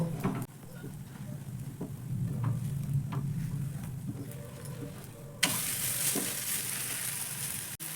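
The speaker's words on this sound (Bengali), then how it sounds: "ঢাকনা সরিয়ে নেওয়ার পর ওপর থেকে আবারও অল্প একটু তেল দিয়ে দিচ্ছি, যাতে উল্টে দেওয়ার পর সুন্দর করে ভাজা হয়" Wheat-flour flatbread fries in a little oil in a pan after being flipped, giving a soft, steady sizzle with a few clicks and scrapes. Near the end it turns into a brighter, louder hiss.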